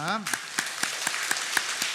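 Steady applause from a church congregation during a Sunday worship service, a broad patter of many hands with a few sharper claps standing out, and a brief voice at the very start.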